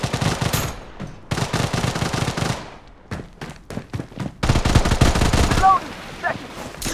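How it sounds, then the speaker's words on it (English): Heavy video-game gunfire comes as loud, close bursts of rapid automatic shots, broken by gaps and single cracks, ending in one long sustained burst with faint voices beneath. "I'm under heavy fire!"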